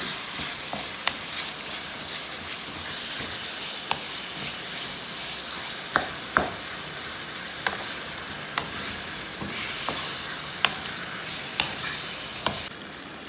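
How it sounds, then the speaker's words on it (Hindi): Minced keema with onions fries in a pan, a steady close sizzle broken by sharp scraping clicks of stirring at irregular intervals. "इसकी अच्छी तरह से करनी है भुनाई"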